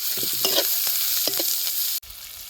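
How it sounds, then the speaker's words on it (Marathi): Poha with curry leaves and coriander stirred in a hot pan, with a continuous sizzle and close, brief scraping strokes of a spoon, then a sudden drop to a quieter hiss near the end. "त्याच्यानंतर लगेच आपला कोथंबीर टाकून घ्यायची सगळं छान मिक्स करून घ्यायची"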